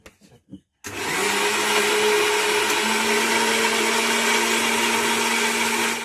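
An electric grinder for rice roars into a loud, steady motor whine after a few brief sounds, running continuously and close at full speed until the end.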